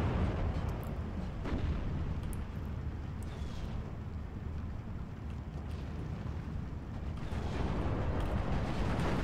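Tank battle between a Soviet T-34-85 and a German Nashorn tank destroyer in Steel Division 2, a dense, continuous low rumble of distant cannon fire and booming impacts with a few sharper cracks, steady throughout.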